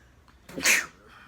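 A single loud, close sneeze bursts out after a brief quiet breath, then fades into soft room noise.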